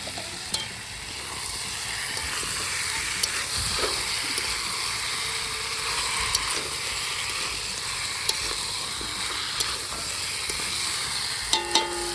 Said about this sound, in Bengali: মশলাটা প্রায় ভাজা হওয়ার দিকে দিকে মাংসটা দেওয়া হচ্ছে